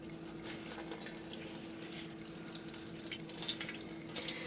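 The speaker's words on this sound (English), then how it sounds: "you can see down here the water is being pushed through the larger holes" Water trickles and splashes faintly as it drains through the holes of a colander while homemade mozzarella curd is gently spun inside, a soft continuous patter with small drips, quiet and close, under a low steady hum.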